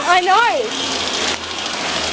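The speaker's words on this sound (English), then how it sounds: "we're outside in the rain" Rain falling outside a school in Adelaide, a steady close hiss of rain on surfaces with a person speaking briefly over it at the start.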